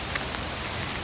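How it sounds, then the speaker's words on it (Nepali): Steady rain falls on a cool, breezy day in Belgium, a dense even hiss with scattered faint drops and no voices. "पानी पर्दैछ।"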